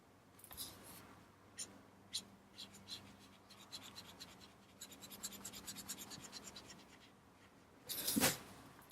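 Alcohol markers scratch and squeak across a paper coloring page while colors are blended, giving a run of soft, close strokes with short quick bursts and a louder rub near the end.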